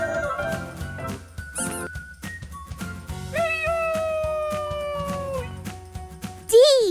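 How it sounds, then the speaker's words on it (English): A cat meows in a children's alphabet song, a few bright pitched calls rising and falling over cheerful music, with a short sharp swoop near the end. "C is for cat."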